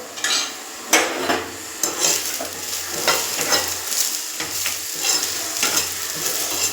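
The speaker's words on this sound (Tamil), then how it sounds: "இதை பாருங்கள், வெண்டைக்காய் நல்லா வதங்குது." Sliced okra sizzles as it is sautéed in a pan for sambar, with repeated scraping stirs of a spoon against the pan over a steady frying hiss.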